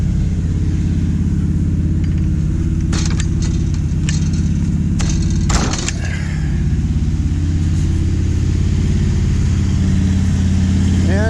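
A classic farm truck idles and runs without a muffler, a loud, steady low engine drone throughout, with brief jangling and clicking sounds in the middle and some faint talk underneath.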